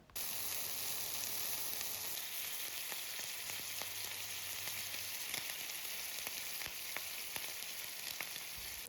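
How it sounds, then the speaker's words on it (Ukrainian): Steady, dense sizzling of chicken and bacon frying in a hot pan, with occasional pops and crackles, close and continuous. "Тепер найапетитніше смажимо з обох сторін курочку та бекон і насолоджуємося цими неймовірними звуками."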